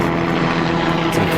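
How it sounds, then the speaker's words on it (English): A helicopter flying overhead, a loud continuous rumbling drone with a throbbing rotor pulse that holds steady and close for the whole moment, with talking beneath it. "Helicopter going overhead."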